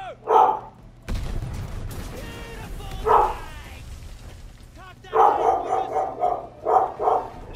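A dog barks in short bursts of yips and bow-wows, near and loud, with gunfire and game noise rumbling underneath in a wartime shooter setting.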